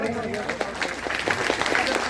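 Guests at a village religious storytelling gathering clap in welcome, producing a brief patter of applause under and after a voice speaking over it.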